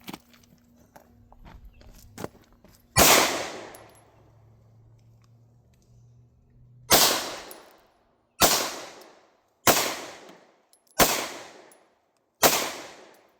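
Five sharp, loud Hi-Point C9 pistol shots firing hollow point rounds ring out at uneven intervals, each with a decaying echo, after a few faint clicks and handling noises.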